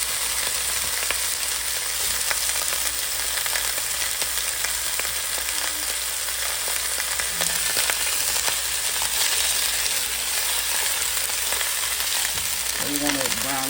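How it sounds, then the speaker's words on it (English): Neck bones browning in a few tablespoons of vegetable oil, a steady close sizzle and frying hiss running throughout with occasional light stirring, no talk. "So you want to brown your neck bones"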